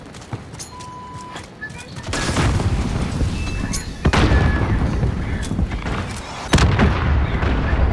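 A javelin missile explodes in a video game amid ongoing combat, with several heavy, loud booming blasts spaced a couple of seconds apart and sharp gunshot-like cracks scattered between them.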